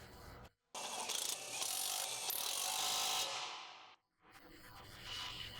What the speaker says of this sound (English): Install the mounting bolts and use an 18mm deep socket on your impact wrench to tighten them